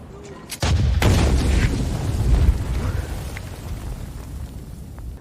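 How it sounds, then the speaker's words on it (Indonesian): A loud boom erupts suddenly as a landmine explodes in a film, followed by a long rumbling roar and debris-like crackle that slowly fades over several seconds. "terjadi ledakan saat itu juga"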